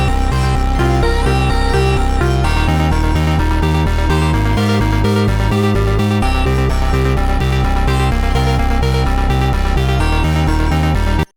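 Several layered lo-fi synth melodies, including an Italo 2020 arpeggio preset from Analog Lab, play together as a dense, steady loop with no single lead line, loud and continuous throughout before stopping abruptly at the end.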